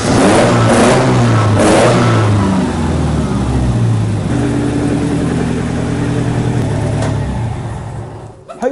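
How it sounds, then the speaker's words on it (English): A Ford Zetec car engine running on a newly installed ME221 ECU cranks briefly, catches, and revs loudly before settling into a steady running drone that fades slightly at the end. "And then we're going to crank the engine over."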